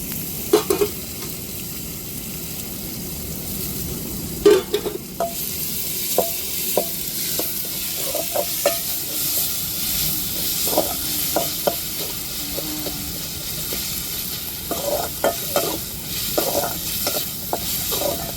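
Ginger garlic paste sautés in a frying pan with a continuous loud hiss, while the spatula scrapes and taps the pan again and again, close up and with no voices.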